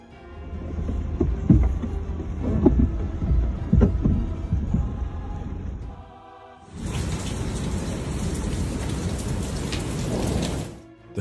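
Heavy rainfall in a strong windstorm: a dense, loud downpour with low rumbling, breaking off briefly before a steady, broadband roar of rain and wind resumes.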